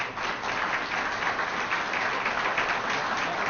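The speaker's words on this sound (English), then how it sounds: "we would absolutely, positively be remiss if we didn't ask Carrie Herr to step up here and for a big round of applause" A steady round of audience applause at a professional staff development certification awards ceremony, dense even clapping from a crowd that holds at constant volume throughout.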